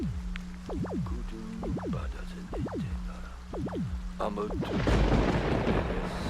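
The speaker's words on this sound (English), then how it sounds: "The lightning's kind of loud." Thunder and lightning in the video game Beholder 2: a series of deep, booming cracks in quick succession, then a heavier, noisy rumble near the end. A voice talks over part of it.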